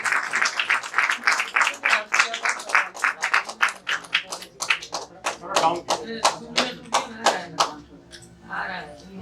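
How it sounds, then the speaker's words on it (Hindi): Seminar audience at a product training event claps in a rhythmic, evenly spaced beat of sharp claps, loud and close, slowing slightly toward the end as a voice speaks over it. "तालियां बजती रहनी चाहिए सर"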